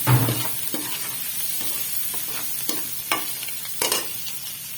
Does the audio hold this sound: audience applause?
no